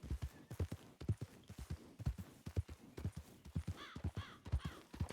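Horse hooves clip-clopping in the Red Dead video game, a steady quick rhythm of close, hollow thuds, with faint bird calls heard partway through.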